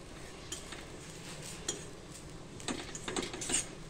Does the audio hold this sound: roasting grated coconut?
yes